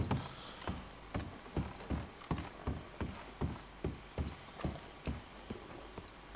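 Horse hooves clip-clop at a steady walking rhythm in Red Dead Redemption 2, about fifteen even, fairly close thuds with no talk over them.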